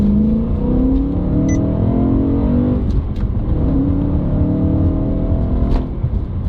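A BMW M3 E92 with a six-speed manual gearbox revs up hard, the pitch climbing steadily through a gear change and rising again, loud and close from inside.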